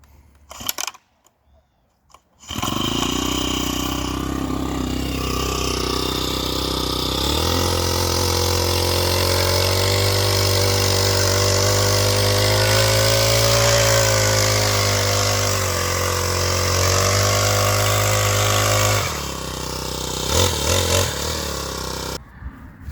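A small petrol engine on a Polish potato hiller starts after a couple of short pulls and runs steadily and loud up close, its pitch rising under load before it settles back down near the end.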